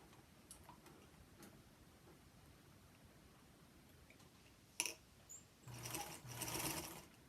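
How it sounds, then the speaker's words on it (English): A Featherweight sewing machine top stitching fabric for a quilt, its low steady whir running in bursts toward the end, louder and closer, after a quiet stretch of faint handling sounds. "I'm going to flip this over and finger press it open, and then I'm going to top stitch down"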